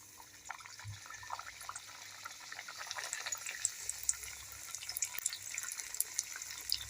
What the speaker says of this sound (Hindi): तो अब इस गर्म तेल में हम आराम आराम से एक एक करके पूरी डाल देंगे।